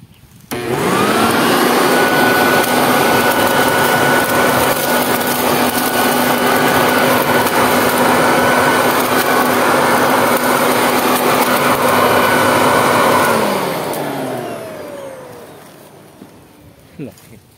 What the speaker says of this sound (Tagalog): Subukin naman natin guys yung vacuum niya.